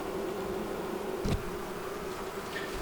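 Honey bees in a queen rearing box make a dense, continuous close buzz, steady throughout with a brief knock partway through and no voices.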